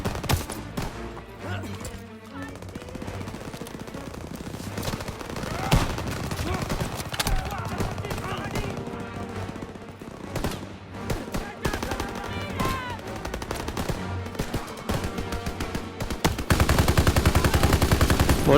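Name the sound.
gunfire in video game Call of Duty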